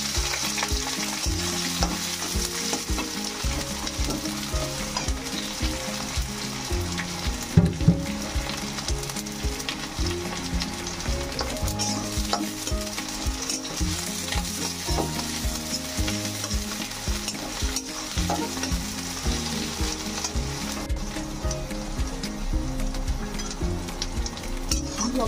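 Onion fries in oil in a pan, a continuous close sizzle with occasional stirring and a brief clink of a utensil, no voices present.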